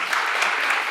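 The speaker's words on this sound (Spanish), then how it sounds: "Sí, aplausos, vale." An audience claps in dense, even applause at a talk on leadership, just before a question-and-answer session. The sound stays loud and steady throughout the short burst.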